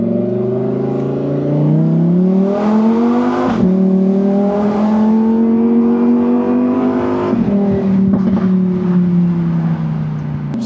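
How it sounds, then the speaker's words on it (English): Close, loud Lamborghini Huracan engine note heard while driving, rising through the revs, dipping sharply at a gear change, then pulling smoothly again before settling, with no talk over it. "So this car does sound phenomenal."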